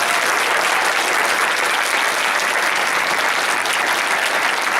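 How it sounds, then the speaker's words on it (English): An audience at an evening Common Core education forum gives a panel a loud, dense round of applause, close and sustained at full strength throughout. "I think we should give another round of applause to our educational panel."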